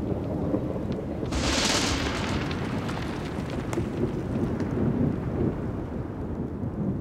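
A thunderstorm in the Tatra mountains of Slovakia brings continuous rumbling thunder under steady heavy rain, with a sharper crackling burst early on and the roar sustained throughout.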